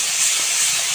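Salt, turmeric and spices sautéing in a hot pan, a continuous bright sizzling hiss, close and steady, no talking.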